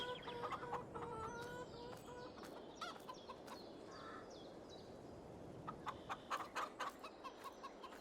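Several chickens in the video game Farming Simulator 22 cluck and chatter repeatedly at close range over a low, constant background hum.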